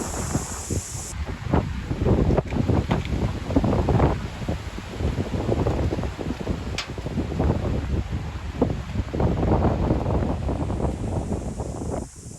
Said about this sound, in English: It's just the odd gust which is really strong, and you can really see the trees moving quite a lot.